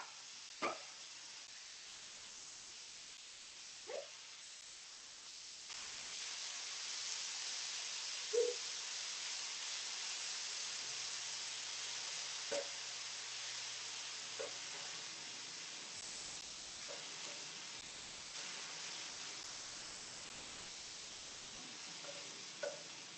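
Diced onion sizzles steadily in a hot pan as a constant hiss of frying, with occasional soft pops and clicks from stirring, moderately close and alone without talk.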